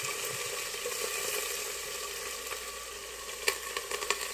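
Whole spices tempering in hot oil for a vaghar, a steady dense sizzle throughout with a few sharper crackles and pops near the end, close and alone.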